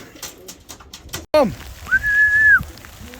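Flying pigeons being called in to their loft: a sharp sound, then a long, steady, clear whistle, with brief cooing and bird calls close by.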